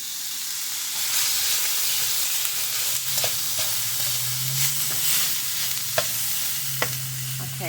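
Smoked sausage, ground beef and vegetables sizzle in a pan while being stirred, a steady close hiss of frying broken by occasional spoon scrapes and clicks, with no talking.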